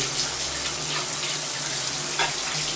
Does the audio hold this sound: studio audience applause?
no